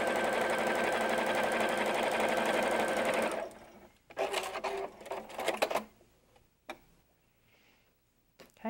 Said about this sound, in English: Quarter-inch seam, always going to do my little back stitch.